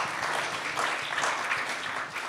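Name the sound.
audience applause for the guests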